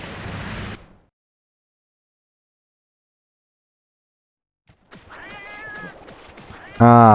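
A black cat in the game Monster Hunter 2 Dos meows near the end, a short clear tonal cry following a stretch of silence and some quieter game sounds.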